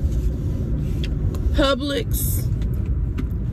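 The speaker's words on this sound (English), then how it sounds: "we are in the car" Inside a moving car, a steady low road and engine rumble runs throughout, with someone speaking briefly over it.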